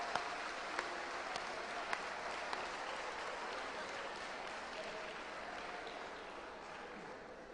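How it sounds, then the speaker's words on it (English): Audience at the grand finale of a national public speaking competition gives a sustained round of applause, fairly faint and distant, with a few sharper individual claps near the start. "Let's give them a round of applause."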